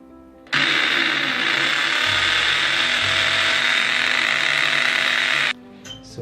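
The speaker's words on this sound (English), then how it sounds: "then I'm going to drill my hole" Power drill boring a hole for a shower valve bracket during a shower valve replacement, a single continuous whine of about five seconds that starts and stops abruptly, close and loud, with no talking.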